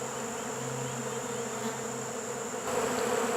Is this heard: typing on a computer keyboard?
no